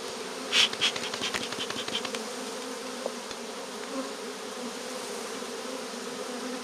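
Honey bees swarm around hive frames during a spring build-up for honey production, a steady, dense buzzing drone with a few louder passes close by early on and a sharp knock or two.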